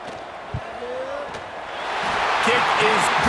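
A single dull thump of a field goal kick in the College Football 26 video game, Iowa Hawkeyes versus Nebraska Cornhuskers, followed by a stadium crowd roar that swells and grows louder.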